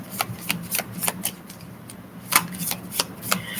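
A deck of tarot cards being shuffled, with a quick series of crisp riffling bursts and soft slaps in an irregular rhythm, close and clear with no talk.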